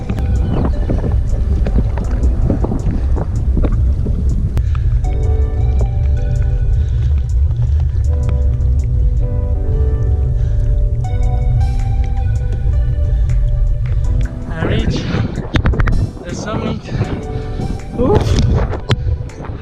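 Strong, steady wind buffeting a microphone while riding a touring bicycle uphill, a low roaring rumble throughout with some tonal rattling, gusting harder near the end.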